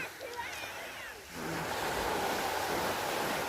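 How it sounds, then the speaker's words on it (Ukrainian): Sea waves washing ashore beside sunlit, fire-scorched mountains. A faint voice and soft noise come first, then a broad, steady surf roar swells in after about a second and fills the rest, fairly close. "Так що оце просто море."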